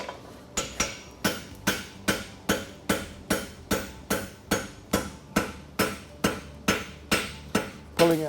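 Hammer forging a wedge at the end of a hot horseshoe, a hunter hind caulk and wedge shoe, with about fifteen evenly spaced, ringing metal strikes in a steady rhythm.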